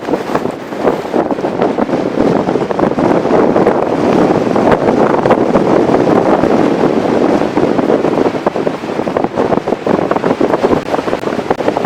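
Strong gusting wind buffets a microphone on an open mountain ridge between Twmpa and Waun Fach, a loud continuous roar with rumbling bursts that barely eases, no voices.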